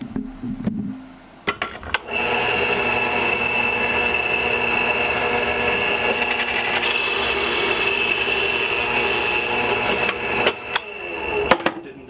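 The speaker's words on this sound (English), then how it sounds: "And it's over to the drill press." A drill press with a Forstner bit runs for about eight seconds with a steady motor whine, bracketed by clunks and handling knocks as the bit is lowered into and lifted from wood.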